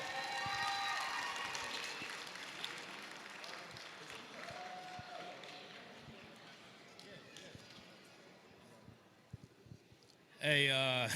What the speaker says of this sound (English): So a round of applause for Samuel Johns